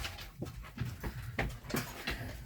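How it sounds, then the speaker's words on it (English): Dogs pant and whimper close by after being let out indoors, a restless rhythmic huffing with small yelps that rises and falls over the short span. "If you hear all that racket, that is the dogs being let out, causing havoc everywhere."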